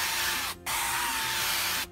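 Cooking spray hisses steadily onto an outdoor grill in two long bursts, separated by a short pause, close and fairly loud with no talking.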